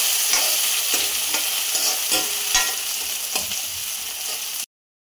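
Onions fry to a golden color in a pan for Maggi noodles, giving a loud, steady sizzle with periodic scraping stirs, then cutting off abruptly near the end.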